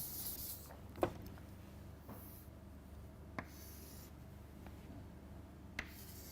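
Pen or chalk scratching out a diagram by hand during a lecture on pn junctions, with soft, faint strokes and a few sharper taps spread across a quiet room, no talking.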